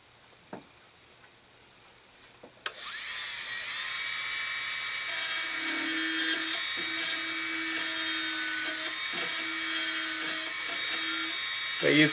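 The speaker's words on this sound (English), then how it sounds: "Now I'm going to use my drill bit just to open it a little bit." A small high-pitched drill whines steadily and close by, boring through a metal earring piece, starting abruptly and running continuously with slight changes in pitch as it bites.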